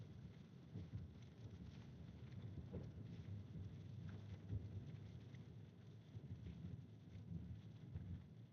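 Rain and wind during a storm on the Kansas–Nebraska plains batter an outdoor camera, making a faint, steady rushing hiss with a low rumble underneath and no voices.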